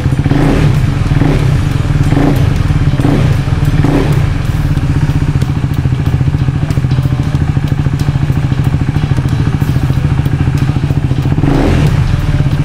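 A KTM Duke 390 single-cylinder engine with ride-by-wire throttle idles with a steady throb up close, blipped in a quick run of short revs early on, then held at idle before one last rev.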